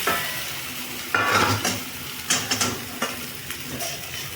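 Chopped onion and chunky tomato pieces fry in a spiced masala for tikia kebab, with a steady close sizzle broken by clattering stirs and scrapes of a spoon against the pan.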